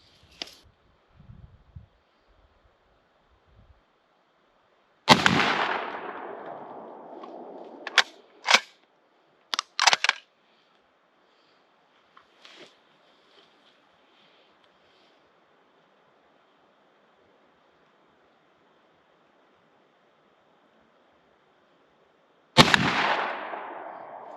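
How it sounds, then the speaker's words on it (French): Two rifle shots fired at a target about 100 feet away, each a sharp loud crack with a short decay, spaced well apart with quiet handling noises and small clicks in between. "on va tirer 2 balles, mais on va viser la zone ici"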